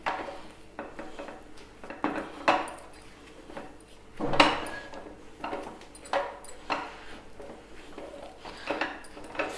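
Thick ragi mudde dough of finger millet being stirred and pressed in a pan on the flame, with repeated scraping, knocking and sloshing strokes at an uneven rhythm, close and fairly loud.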